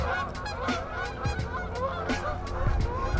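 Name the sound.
angry birds honking outdoors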